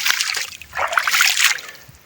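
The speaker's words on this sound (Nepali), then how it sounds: "बहुत जोर पानी बा ये पहाड़ हरिक पानी" Strong water rushing and splashing down from hillsides in a village, a loud, close, continuous watery roar with surging bursts.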